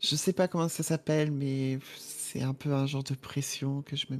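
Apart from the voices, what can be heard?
No distinct noise like a dog, phone or traffic.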